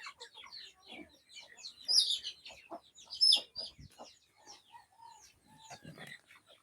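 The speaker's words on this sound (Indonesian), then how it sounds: "Ini bentar lagi kita mau kasih makan ayam" Backyard chickens, including a hen with four newly hatched chicks, cluck and chirp softly and intermittently in a small home garden just before feeding time, with brief louder squawks.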